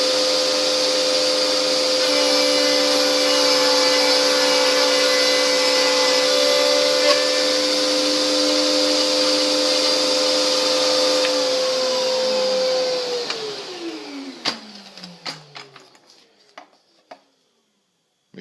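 A power tool runs steadily with a loud, high tonal whine as a wood piece is machined against a feather board, then winds down and spins to a stop, ending in a few knocks and rattles.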